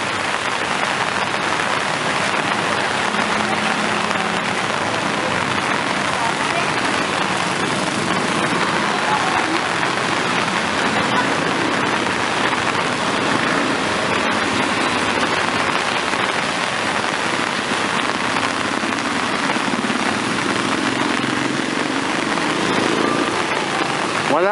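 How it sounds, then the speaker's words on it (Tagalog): Heavy rain falling steadily during the rainy season in a Philippine neighborhood, a loud, dense, continuous hiss of drops on surfaces with no letup. "ganyan kalakas ang ulan"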